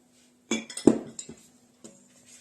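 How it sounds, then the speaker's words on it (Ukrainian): A utensil stirs pancake batter in a bowl, making a few close clinking and knocking taps in a short irregular burst, then one faint tap after a pause, with a low steady hum underneath. "Розмішуємо, щоб не було грудочок."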